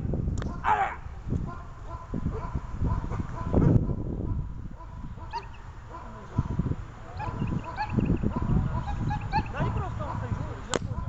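During protection training, a dog yips and whimpers in high, strained bursts, mixed with handlers talking and scattered sharp clicks and thumps.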